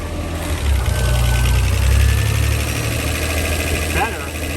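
A 1991 Alfa Romeo 164 engine with a bad wiring harness idling loudly up close, its low rumble surging then sagging as it cuts out and picks back up.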